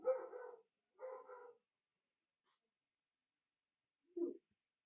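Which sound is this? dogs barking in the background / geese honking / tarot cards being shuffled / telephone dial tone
dogs barking in the background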